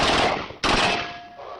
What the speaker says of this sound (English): American contractors in Iraq were firing a Kalashnikov assault rifle and apparently hit one of the rounds